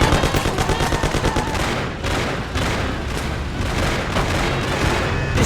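Continuous heavy gunfire from chasers with shotguns leaning out of a car window during a police chase in the Mafia video game, loud and dense with rapid overlapping blasts throughout.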